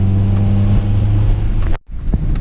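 A Honda GSR engine fitted with a Skunk2 intake runs at idle with a loud, steady low rumble, dips sharply for a moment as if the revs falter, then picks up again close to the microphone.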